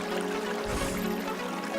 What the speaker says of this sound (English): They make this sound when air bubble gets trapped in the stream and then burst.